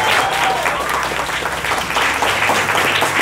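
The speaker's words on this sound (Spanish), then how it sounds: "Un aplauso para ella." An audience at a business talk applauds a speaker being introduced, loud dense clapping from a crowd that stays steady and close throughout.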